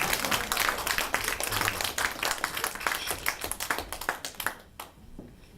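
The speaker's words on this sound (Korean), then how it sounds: "좀 박수 한번 일단 쳐주면 고마운데." A lecture audience in a hall gives a short round of applause. The clapping is dense and fairly faint, then thins into scattered claps before it fades out.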